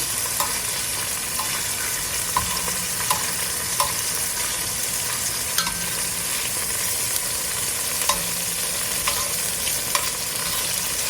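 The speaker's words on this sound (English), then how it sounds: "we're going to get these shrimp cooking about 2-3 minutes on each side. So we're going to flip these." Shrimp fry in a hot pan for linguine with cognac, giving a loud, continuous close sizzle with scattered sharp pops and spatters, some of them as the pieces are flipped, and no voices.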